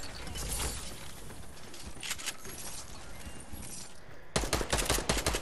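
Gunfire in the video game Fortnite: rapid bursts of shots sound at moderate distance, ending in a louder, closer volley of shooting near the end.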